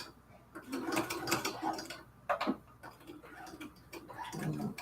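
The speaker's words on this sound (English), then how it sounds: "I'm going to sew here from the middle" A sewing machine stitching a cathedral window quilt curtain, a quiet rapid mechanical ticking and whirring that runs in bursts with brief pauses, fairly close but low in level.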